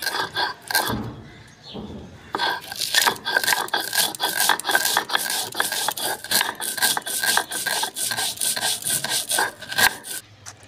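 Mustard seeds, a green chili and salt ground into raw taro paste on a grinding stone, giving a continuous rough rubbing and rasping scrape in steady back-and-forth strokes, close and fairly loud, after a short pause near the start.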